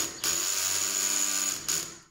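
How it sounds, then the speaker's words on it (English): An electric drill driving screws with its torque clutch set to 16 whirs in a steady high whine, starting with a sharp burst, briefly re-revving near the end, then winding down. "I set the electric drill to wrench to 16."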